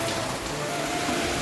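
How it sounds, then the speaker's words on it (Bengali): Heavy rain drums on a roof, a dense, loud and steady patter that fills the space without a pause. "বৃষ্টির আওয়াজটাই বেশি হচ্ছে, এত জোরে বৃষ্টি হচ্ছে না, আর অ্যাডজাস্টারের চালের উপরও পড়ছে, মানে আওয়াজটা হচ্ছে।"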